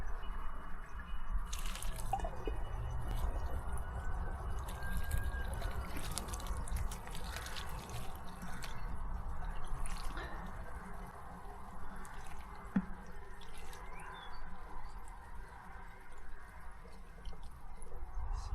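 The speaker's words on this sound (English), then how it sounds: "it's just dripping a bit." Homemade wine dripping and trickling into a glass demijohn in a shed, a soft continuous run of small irregular drips and liquid patter, close and quiet, with no voices.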